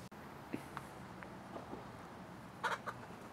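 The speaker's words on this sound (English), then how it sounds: "Oh, the chickens are coming over." Several chickens cluck softly nearby in short scattered bursts, with a louder squawk near the end over quiet outdoor background.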